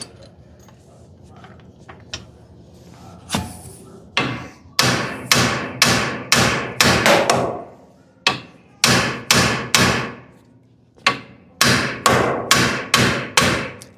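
Repeated hammer blows strike in quick bursts, sharp metallic whacks landing in groups of four or five with brief pauses between them, while disassembling the brakes of a 1968 Camaro.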